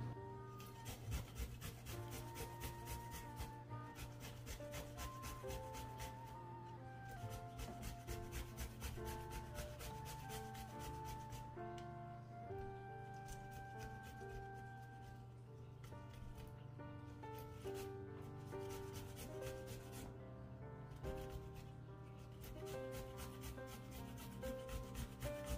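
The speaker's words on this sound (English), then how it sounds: "And then we're gonna grate our ginger." Fresh ginger is rubbed against a grater in a kitchen making pepper steak, a quiet, repeated rasping scrape over a steady tonal background.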